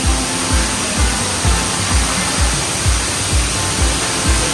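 A waterfall in Maharashtra roars as a steady, dense wash of broadband rushing water heard from close behind the falls, with soft regular low thumps pulsing underneath.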